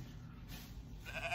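A sheep bleats in a short, wavering cry, fairly faint over a low background hum.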